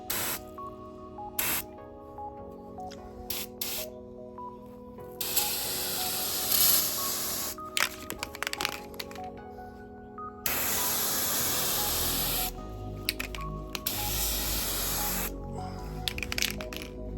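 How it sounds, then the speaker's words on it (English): Spray paint is applied in medium wet coats to a Toyota 4Runner valance, with repeated bursts of aerosol hissing, some short and one long sustained spray, between rattles of the can's mixing ball. "So I'm gonna do about 2 to 3 medium wet coats."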